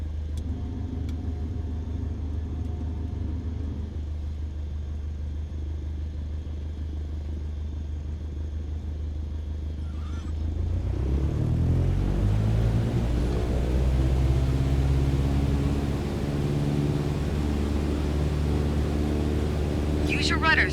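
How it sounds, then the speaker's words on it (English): A small propeller airplane's engine in Microsoft Flight Simulator, starting as a steady idle drone and then rising to full takeoff power around midway, a louder, deeper roar sustained to the end, with a voice talking over it. "Apply full power and I'll walk you through the takeoff as we go"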